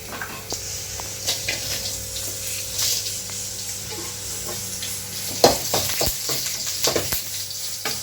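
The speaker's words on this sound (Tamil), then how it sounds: "இதெல்லாம் போட்டு வறுத்துக்கலாம்" Tomatoes and spices frying in a little oil in a pan for goat intestine kulambu, a moderate sizzle with repeated clattering scrapes and taps of a stirring spoon, busier toward the end, close by, no talking.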